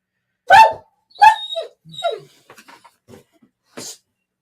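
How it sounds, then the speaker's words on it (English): An upset dog barks several times in short, close bursts, then whimpers and whines softly between the barks, ending with one more sharp bark. "Yona's upset because his mama taking one of the other dogs for a WALK."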